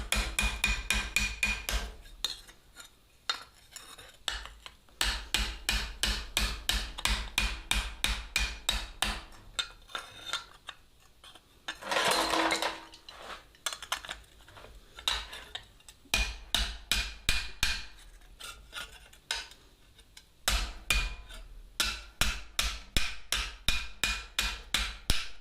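Metal struck repeatedly with a chasing hammer reworked from a Harbor Freight ball pein, sharp close ringing taps in fast steady bursts, broken by brief pauses and a short scraping rasp midway.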